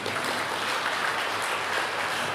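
A church congregation claps in a dense, crackling wash of applause that holds steady for a couple of seconds.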